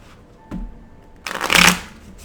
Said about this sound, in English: Now this one I can shuffle because of the fact that it is not as hard.